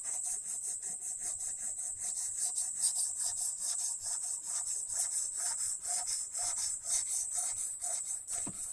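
Continuous steady scraping of a knife blade drawn across the stone of a Ruixin Pro sharpener, a close, even rasping stroke repeating without pause and with no voices.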